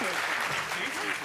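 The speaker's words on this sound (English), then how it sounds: "Can we give her a round of applause for that question?" An audience claps in a round of applause at a live jazz event, dense steady clapping filling the whole short moment, with voices mixed in underneath.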